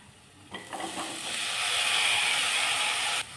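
Mixed vegetables including beans, cauliflower, green peas and potato sautéing in a pan: a few stirring scrapes, then a steady loud hissing sizzle that swells and holds, close up.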